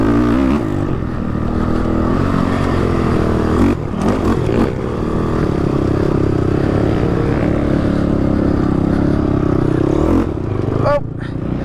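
A 2014 Honda 450 dirt bike engine drones loudly during a wheelie, holding steady revs with brief dips and surges as the throttle shifts, close and continuous with wind rush.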